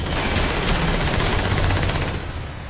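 Enemy gunfire in Half-Life 2's Water Hazard chapter: a loud, dense burst of rapid automatic shots that rattles on without pause, then cuts off abruptly near the end.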